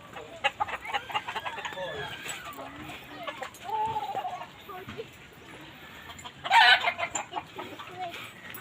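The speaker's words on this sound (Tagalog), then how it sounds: "Mga manok ni Kuya." Several chickens cluck and chatter nearby in a continuous, uneven stream at a house blessing in Villa Zaragoza, Bocaue, Bulacan, with one louder squawk near the end and a quiet murmur of voices.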